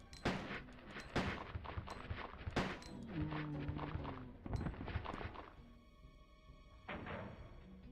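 A shotgun fires in Resident Evil 2 on the N64: a few sharp, booming blasts spaced a second or so apart, mixed with other game noises and no talking.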